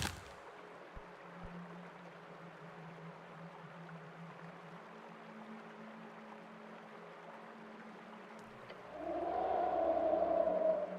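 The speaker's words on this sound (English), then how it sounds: "You hear his roar fade into the rushing water below." A beast's roar in a video game fades out over a sustained low rumble, then gives way to loud rushing water that swells in near the end.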